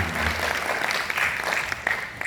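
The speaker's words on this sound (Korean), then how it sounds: "박수 감사하겠습니다" Applause from an audience at a disability association day event in a hall, steady dense clapping throughout the short stretch with no talk.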